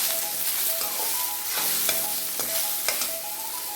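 Garlic cloves and green chillies sauté in a pan for a banana-stem chutney, a steady close sizzle and crackle with occasional spoon stirs and scrapes, no talking.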